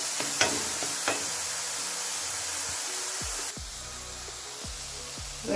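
Onion paste frying in a pan until brown gives a steady, close, hissing sizzle, with a few soft scrapes of a spoon against the pan in the second half.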